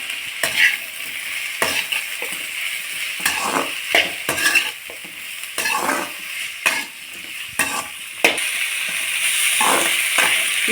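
Ingredients for kadamba chutney sautéing in a pan, with a steady frying sizzle broken by repeated scrapes and stirring strokes of a utensil against the pan, close and fairly loud throughout with no talking.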